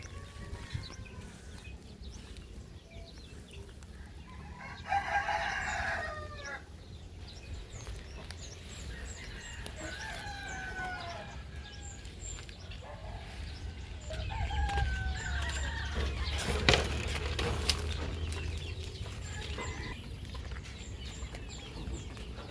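Chickens on a farm, a rooster crowing a few times amid scattered clucking, heard fairly faintly against quiet outdoor background noise.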